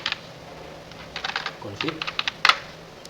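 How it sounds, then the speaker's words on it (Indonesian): Quick bursts of typing on a computer keyboard as a command is entered in a command prompt window, crisp clustered key clicks in short uneven runs, close and fairly clear. "lalu kita buka command prompt kita, lalu kita ketikkan IP config."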